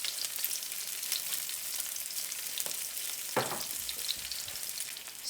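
A fish fillet fries skin side down in a hot pan with a constant loud sizzle and crackle. A couple of soft knocks stand out near the middle and nobody speaks.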